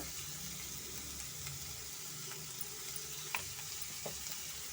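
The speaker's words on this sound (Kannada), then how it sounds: "ತರಕಾರಿ ಸ್ವಲ್ಪ ಫ್ರೈ ಮಾಡ್ಕೊಳ್ಳೋಣ" Vegetables for vegetable shavige bath fry in a pan over medium flame with salt and turmeric, a low steady sizzle with occasional faint clinks and stirring taps.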